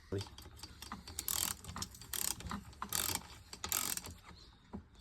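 A socket ratchet clicks in short bursts while nut bolts are tightened on the water pump of a 15hp Yamaha outboard, with repeated close mechanical ratcheting and a few light metal taps in between.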